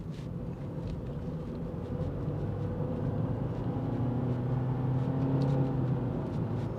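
A 2024 MG3 Hybrid accelerates uphill from 40 to 60, engine droning steadily with a slowly rising tone under road and tyre noise, moderately loud and continuous.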